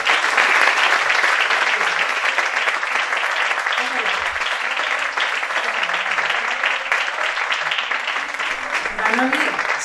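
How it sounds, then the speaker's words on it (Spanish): Sustained, dense applause from a crowd at a literary awards ceremony, steady and loud for the whole stretch, with faint voices beneath. "Un aplauso muy grande para él"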